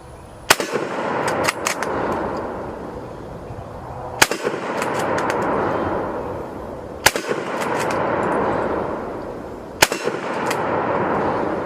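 Carbine rifle shots fired outdoors, four loud sharp reports spaced roughly three seconds apart, each followed by echoing rumble and a long decaying tail.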